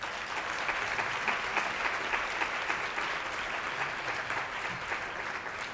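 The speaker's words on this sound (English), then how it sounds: "a great round of applause for their leadership, bravery, and persistence on this important initiative" Conference attendees at a 2008 medical interpreters' gathering give sustained applause, a dense, even wash of many hands clapping at moderate distance without a break.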